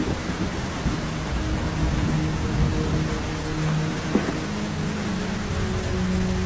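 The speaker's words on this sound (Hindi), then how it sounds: "जंगल में बहुत तेज बारिश हो रही है।" Steady heavy rain pours down in a forest in a continuous wash of noise, with a brief low rumble partway through.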